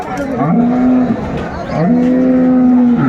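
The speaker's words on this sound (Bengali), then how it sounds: "এটা হচ্ছে গাভী এটা হচ্ছে বাছুর" A cow with her calf at a Bangladeshi rural cattle market moos twice in long, loud, close lowing calls, with crowd noise and talk underneath.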